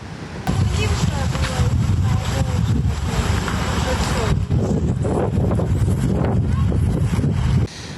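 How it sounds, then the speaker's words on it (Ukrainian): Strong squall wind roars and buffets the microphone continuously for several seconds, loud and harsh, then cuts off abruptly near the end. "Шквальний вітер не припиняється від слова зовсім"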